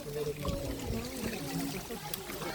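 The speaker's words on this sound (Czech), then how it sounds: "Potůček." A small stream trickles and burbles continuously close by, a steady watery babble with people talking over it.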